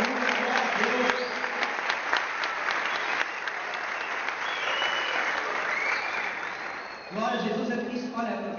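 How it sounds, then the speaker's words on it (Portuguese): A church congregation at a Sunday evening service in Barueri breaks into sustained applause, with the clapping mixed with cheers and voices for most of the stretch before a speaker's voice returns near the end. "Aplausos por isso."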